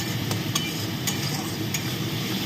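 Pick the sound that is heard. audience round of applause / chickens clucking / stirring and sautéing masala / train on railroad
stirring and sautéing masala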